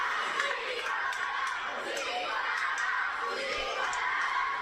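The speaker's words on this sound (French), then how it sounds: "La foule qui chante 619." A wrestling event crowd chants in unison, a steady roar of many voices filling the hall with rhythmic shouted accents, fairly distant and continuous.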